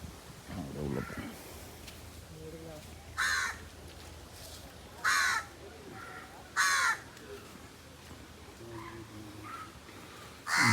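Crows caw several times at the Vedanthangal bird sanctuary, the harsh calls spaced a few seconds apart over a quiet outdoor background, with faint talk early on.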